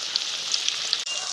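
Paneer pieces coated with salt and turmeric fry in oil, giving a brief, close, steady sizzle with tiny crackles and one short break. No voice is heard.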